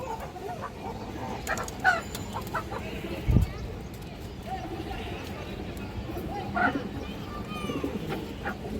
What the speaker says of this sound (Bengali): এই যে দেখেন দর্শক পাথর চোখের একটা কালো গলা মাদি কবুতর